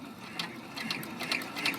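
An embroidery machine stitches an oversized mini felt bow design, a quiet rapid mechanical needle clatter with light ticking bursts, close and steady with no voices.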